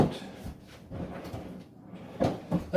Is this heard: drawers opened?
yes